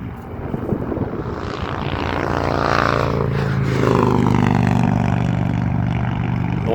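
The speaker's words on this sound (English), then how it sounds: "Noisy motorcycles. I can't even hear the train horn." Loud motorcycles roar past near a railroad signal at McDaniel Road, a broad engine drone building and swelling over several seconds and staying heavy to the end, with no talk.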